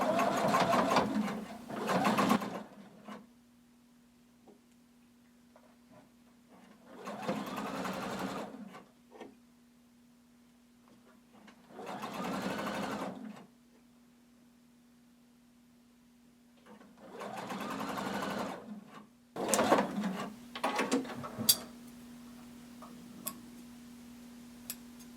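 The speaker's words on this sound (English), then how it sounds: "And I'm going to sew close to the edge." A home sewing machine runs a hem close to the edge of a hooded tunic dress, coming in four separate bursts of fast rhythmic stitching, each a few seconds long, with quiet pauses and a faint steady hum between them.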